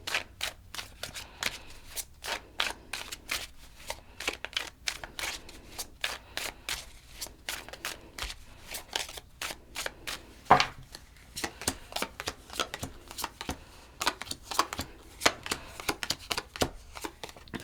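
Tarot cards being shuffled by hand in a quiet room, a long run of rapid, crisp riffling and flicking bursts in an irregular rhythm, close and fairly soft, with no talking.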